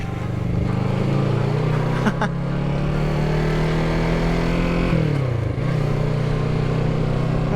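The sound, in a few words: motorcycle engine starting and revving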